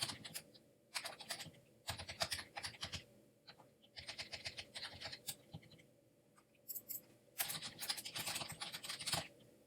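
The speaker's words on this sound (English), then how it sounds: "I click the Add Agent button here, enter in Todd's information" Rapid keystrokes on a computer keyboard while entering account details: close, clicky bursts of typing separated by short pauses, with no speech.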